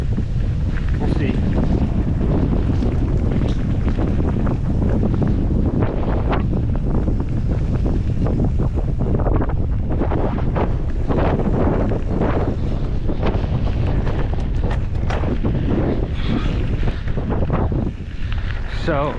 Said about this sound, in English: I don't know how well you can hear with this wind, but we'll see.